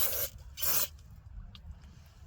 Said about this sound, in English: Just a quick little spray here.